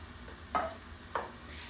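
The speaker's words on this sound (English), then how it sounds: "I'm gonna add my tomatoes." Tomatoes go into a skillet of seasoned tamale pie filling with paprika, cumin and chili powder: two quick spatula scrapes over a low, quiet background sizzle.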